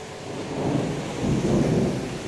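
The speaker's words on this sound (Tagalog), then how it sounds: "So, kidlat kulog. Lakas ng hangin." A thunderstorm with heavy rain and strong wind, a low rolling rumble of thunder swelling twice over steady rushing rain, close and loud.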